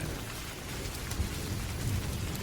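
Heavy rain pours steadily with low rumbling thunder in the background, a dense continuous downpour in a stormy night setting, with no talking.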